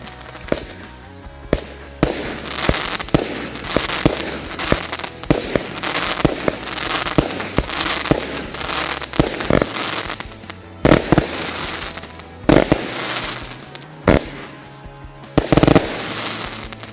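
Breakdance firecrackers and fireworks set off for New Year, bursting in a loud, dense barrage of crackling pops and sharp bangs that repeat almost without pause, with a few brief gaps between volleys.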